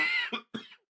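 Two short, sharp coughs from one person close to the mic, the second following after a brief pause, with nothing else around them.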